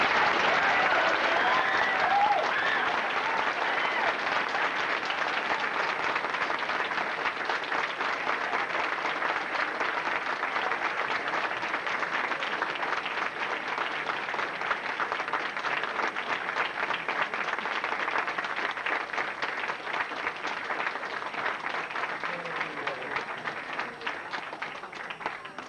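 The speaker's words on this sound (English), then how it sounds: "Let's hear a nice round of applause for both of them." A convention crowd at a 1984 Star Trek event bursts into long, sustained applause, a thick roar of many clapping hands that holds steady and only slightly thins toward the end of nearly half a minute.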